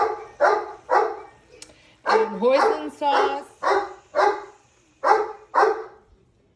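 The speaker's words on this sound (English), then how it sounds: "I do apologize for the barking" A dog barks repeatedly in a steady series of sharp, fairly loud barks, with a few voiced words spoken between them.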